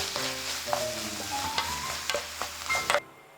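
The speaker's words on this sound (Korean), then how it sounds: "김치가 익고 숨이 죽으면 한식의 마지막을 장식하는 참기름 2스푼과 통깨 1스푼을 넣고 불그로 섞은 후 불을 꺼줍니다" A spoon stirs stir-fried kimchi in a hot pan after sesame oil and whole sesame seeds go in, giving a steady close sizzle with a few scraping strokes before the heat cuts off abruptly near the end.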